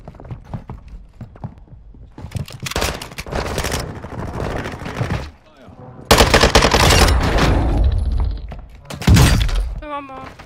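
Call of Duty Modern Warfare gunfire rattles in loud bursts of rapid machine-gun fire, separated by brief pauses, with sharp impacts and a closing single heavy shot.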